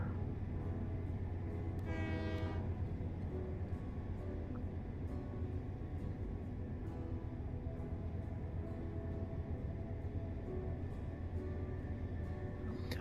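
Steady rumble of a heavy train running down the line in a railway simulator game, with a brief horn-like blast near the start and otherwise continuous rolling noise with regular clicks of wheels over rail joints.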